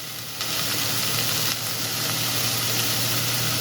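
Onions sautéing in a pan with salt for a chicken tikka masala, a steady close sizzle with a brief stir-like shift partway through, no voices.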